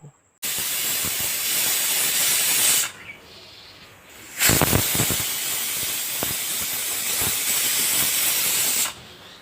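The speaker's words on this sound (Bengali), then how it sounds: "এবার আমি প্রেসার কুকারের 7 থেকে 8টার মতো সিটি দিয়ে নিব।" A pressure cooker on a clay stove vents steam with a loud, sustained hissing whistle that cuts off, returns after a short quieter gap and then stops, all close by with no talking.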